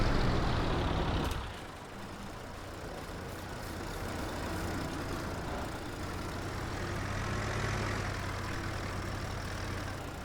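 A tractor drives in Farming Simulator 22; a loud engine roar drops sharply after the first second into a steady lower idle rumble, which swells slightly and settles again.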